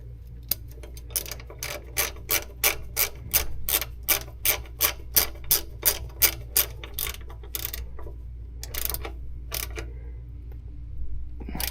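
Rapid ratchet clicks from a hand wrench tightening a bolt on a 1985 Bobcat 843 skid steer, a steady run of about twenty close, even clicks followed by a few slower ones over a low engine-like hum.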